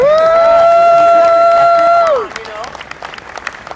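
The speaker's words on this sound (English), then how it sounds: "I thought you might just want to applaud this amazing band that has given us." Crowd applause and cheering for a band at a live concert rise after a sustained chord rings out and then bends down into silence, with scattered claps continuing afterward.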